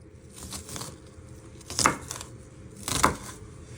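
A knife chopping onion into little pieces for an Aussie meat pie, two distinct crisp chops on a board about a second apart, close and clear, with soft rustling and scraping between them.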